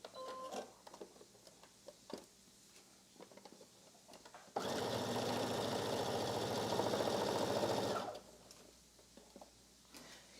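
A sewing machine stitches the shoulder seam of a basic dress made from McCall's 8053, running in one loud, steady burst of about three and a half seconds between quieter stretches of faint handling noise.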